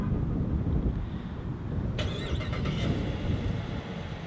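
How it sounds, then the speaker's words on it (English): A 2016 Dodge Charger R/T with a Hemi V8 is remote-started, cranking briefly and then catching into an idle, heard faintly against a steady low rumble of background noise. "It starts up that Hemi."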